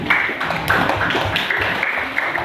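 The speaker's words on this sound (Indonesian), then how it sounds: "Tepuk tangan Arif" A classroom of students gives applause for a classmate who answered, a short burst of close, loud clapping lasting a couple of seconds.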